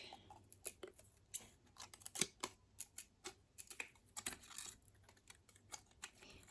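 Sheet metal shears snip through the neck of a plastic bottle in a run of quick, sharp, faint cuts and clicks, irregular and close up, with no talking.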